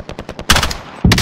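Gunfire in Call of Duty Warzone: a rapid string of close automatic shots, then a brief pause and a second loud burst.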